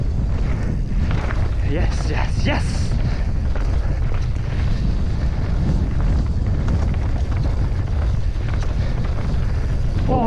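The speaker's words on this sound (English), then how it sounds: "Whoa, so windy." Heavy wind rushes and buffets loudly throughout a mountain bike ride, with a voice briefly speaking over the roar early on.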